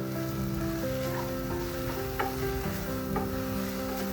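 Coriander leaves sizzle in hot oil with garlic paste during tempering for Rajasthani dal, a steady close frying hiss with faint stirring clicks and no talk.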